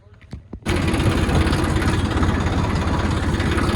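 A large farm tractor hitched to a water tanker starts with a couple of faint knocks, then settles into a loud, steady idle with a dense, rough rumble running unbroken to the end.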